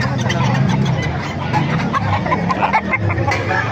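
Chickens clucking amid a busy poultry market crowd at the Bocaue tyangge, steady fowl calls mixed with background chatter and bustle throughout.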